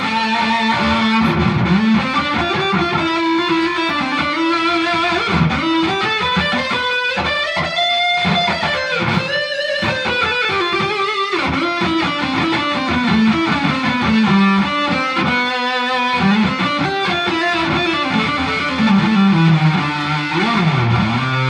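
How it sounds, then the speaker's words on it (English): An electric guitar plays through distortion on its neck pickup, a thick, saturated riff with sustained, bending notes and sliding melodic lines. It continues steadily and loudly for about twenty seconds with no voices. "This is what distortion sounds like on the neck pickup."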